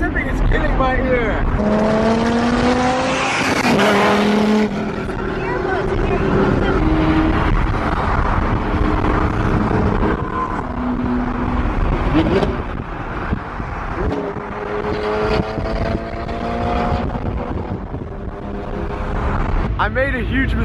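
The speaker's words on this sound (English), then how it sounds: "That car in specific is killing my ear." A Pagani supercar, one of only a few in the world, roars loudly nearby, its engine revving up and down in sharp bursts over a continuous din, with people talking over it.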